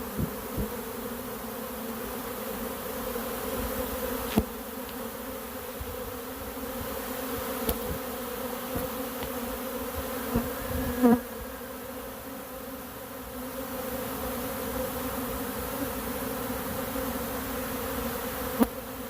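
A honeybee swarm shaken from a tree limb, a dense continuous buzz of many bees droning steadily throughout, with a few faint knocks and clicks scattered through it.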